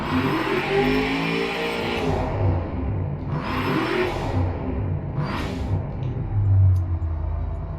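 A car engine in the video game Automation revs up repeatedly; three times, as the throttle lifts, a short sharp hissing chuff of a blow-off valve cuts through.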